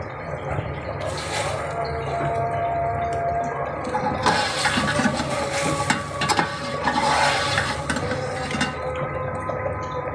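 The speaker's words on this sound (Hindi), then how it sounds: "मटन को हम 2 से 3 मिनट तक पकाएंगे अदरक लहसुन के पेस्ट और प्याज के साथ" Mutton fries in a pot with onions and ginger garlic paste, giving a continuous close sizzle with bursts of louder crackling and stirring scrapes through the middle and later, and no voices.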